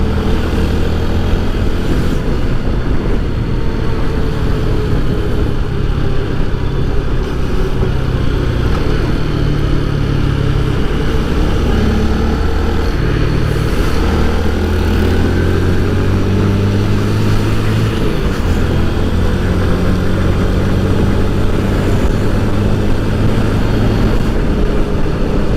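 A Yamaha PG-1 motorcycle rides in fourth gear at around 80, its engine droning loudly and continuously at high revs with wind rush, close and without speech.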